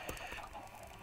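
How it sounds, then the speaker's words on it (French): Chickens in the video game Minecraft cluck in a few short, soft bursts close by, followed by a sudden louder noise right at the end. "Il va falloir que je trouve le moyen de bouger ces poulets."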